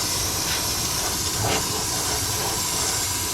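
Steady, close airbrush hiss as clear coat is sprayed onto the body of a 1972 Dodge Challenger under restoration. The loud, unbroken spray holds even for the full stretch with no talking.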